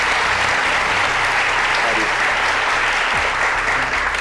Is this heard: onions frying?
no